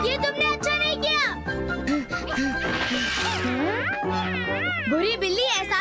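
A cartoon cat meows repeatedly in bright, wavering cries, loud and close, mixed with excited cartoon voices talking and a few crashing bumps.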